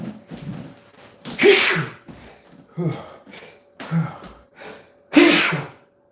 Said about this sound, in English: I sneezed into my arm.